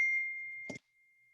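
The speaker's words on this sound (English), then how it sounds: "I forgot to silence my phone." A phone notification rings out as a single bright, clear chime that hangs for most of a second, with a brief muffled handling noise before it stops, in a quiet room.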